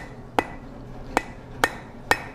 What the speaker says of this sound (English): just hammering down, softer blows as we get to the tip, harder blows in the back where it's thicker